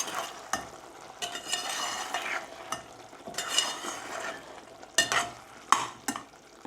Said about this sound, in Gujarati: આપણે હજુ એકવાર મિક્સ કરી દઈએ